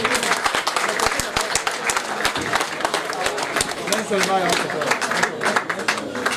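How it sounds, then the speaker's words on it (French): Wedding guests clap for the couple at a reception, a busy mix of rapid claps with crowd chatter and voices underneath. "est-ce que vous pouvez encore applaudir très fort"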